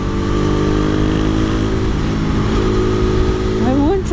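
Steady engine drone from a modded KTM RC390 motorcycle cruising on a highway, loud and continuous with a slight rise in pitch near the end, wind roar underneath and a rider talking over it.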